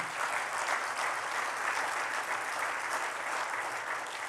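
A church congregation applauds steadily, a dense wash of many hands clapping at even volume for several seconds with no talk over it.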